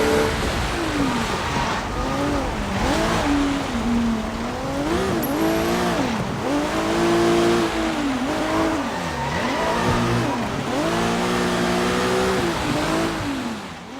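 Car engine in the video game Sleeping Dogs revving hard and rising and falling in pitch as it drives, with tire squeal, loud and continuous throughout with no talking.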